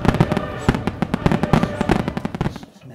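Fireworks and party popper effects go off in a rapid, dense run of sharp pops and crackles at a loud, steady level, thinning out near the end.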